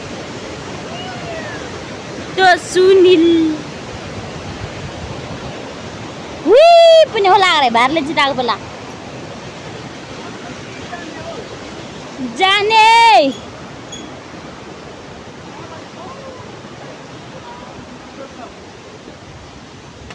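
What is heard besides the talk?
village waterfall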